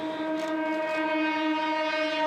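Special train sounding its horn on arrival at Taichung railway station in Taiwan: one long, steady, loud horn blast held unbroken from start to end, close by and alone, without voices.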